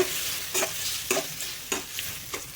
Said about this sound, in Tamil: மாங்காய் சேர்த்துட்டு நல்லா ஒரு நிமிஷத்துக்கு நல்லா கலந்துக்கோங்க.